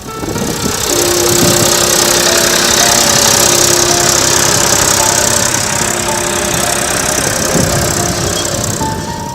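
A tractor driven across disputed farmland in Sikar district, Rajasthan, gives off a loud, steady engine drone that runs without a break through the whole stretch, with no voices over it.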